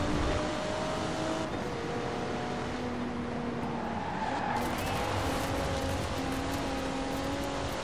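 A racing car in the video game Forza Horizon 4 roars through an exhibition event, its engine whining steadily with shifting pitch and occasional tire squeal under a continuous wash of game sound.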